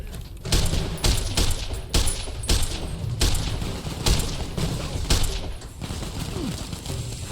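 Gunfire with armor-piercing bullets in heavily modded Fallout: New Vegas cracks out in a steady series of about nine loud, sharp shots spaced under a second apart, with game ambience between them.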